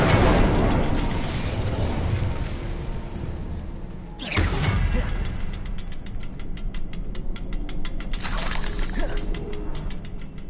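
A fire spell cast in Hogwarts Legacy bursts out with a loud shattering blast around four seconds, followed by crackling, flickering noise and another burst near eight seconds, all over dense game sound with no talk.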